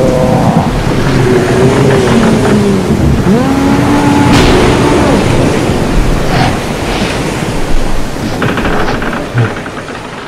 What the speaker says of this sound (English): This is storm's too bad.